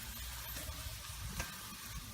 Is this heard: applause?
no